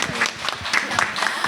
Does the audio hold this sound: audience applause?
yes